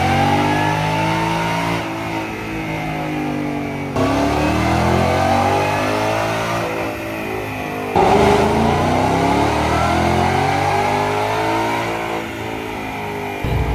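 A Ford Mustang Spec 5 RTR strapped to a dyno, its engine revving hard through repeated rising full-throttle pulls, each sweep climbing in pitch, dropping back, then climbing again, loud and close.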